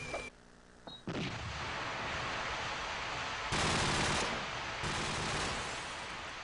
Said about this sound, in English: Lubishmir getting slightly tagged up from the fire of Froz.